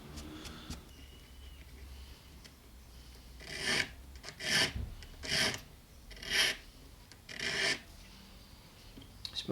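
A file rasps burrs off the binding of a Les Paul Junior Special-style guitar, about five distinct scraping strokes in a steady rhythm, close and fairly loud over a quiet workshop background.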